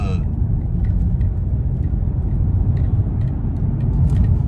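An imported BMW engine idles unevenly with a steady low rumble, running rough while drawing from a nearly empty fuel tank, close and continuous, with faint irregular shudders throughout.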